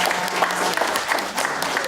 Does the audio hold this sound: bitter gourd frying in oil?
no